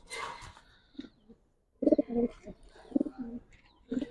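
Silver Giribaz and colouring pigeons cooing in short, low, throaty bursts with pauses between, close by, with a brief higher chirp at the start.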